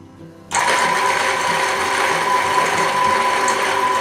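A modified coffee bean grinder grinds corn for a bourbon mash, starting abruptly and then running as a loud, steady mechanical grinding roar that stays close and continuous.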